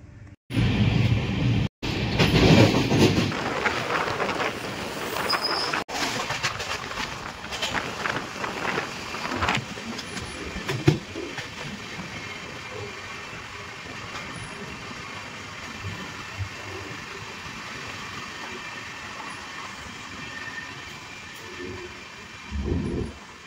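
Steady rumble and rattle inside a new LHB passenger coach on the 13153 Sealdah–Malda Town Gaur Express while running, louder at first and then settling into a continuous, even roar.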